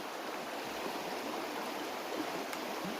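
Water sloshes and swirls in a gold pan while sampling for black sands, a close, continuous watery rush with soft splashes and no pauses.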